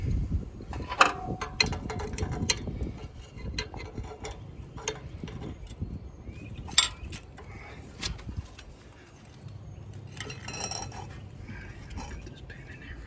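Metal wrench clinking and scraping against a boat trailer's leaf spring in a bad spot, giving scattered irregular metallic ticks and taps at close range over a low background rumble.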